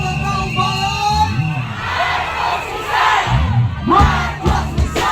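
A large protest crowd at Liwasang Bonifacio shouts in loud, rhythmic unison, voices rising and falling in chant-like bursts, close and dense.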